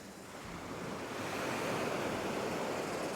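Surf washes onto Sai Daeng Beach on Koh Tao, Thailand, a steady broad roar of waves with some wind noise, swelling slightly louder midway, with no voices.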